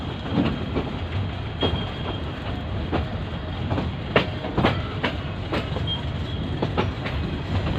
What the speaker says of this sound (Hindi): मैलानी घुस रही है हमारी ट्रेन